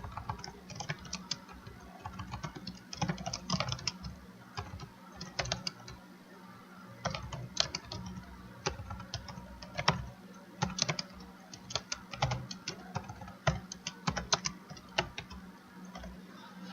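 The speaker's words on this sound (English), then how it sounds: "We're going to type something up here." Typing on a computer keyboard while composing an email, a steady run of quick light key clicks in irregular bursts, close and fairly quiet, with no talking.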